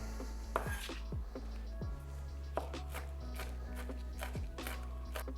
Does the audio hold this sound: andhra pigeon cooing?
no